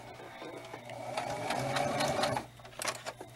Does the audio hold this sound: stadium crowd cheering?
no